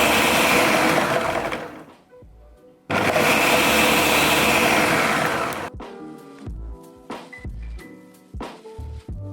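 A countertop blender making a green smoothie whirs loudly in two long bursts, stopping briefly between them, then falls silent before a few clunks and knocks from handling the jar.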